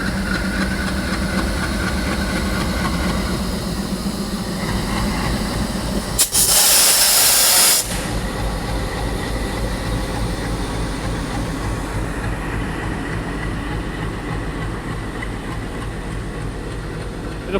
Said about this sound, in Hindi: ये सुनिए डीजल लोकोमोटिव की वो चगिंग साउंड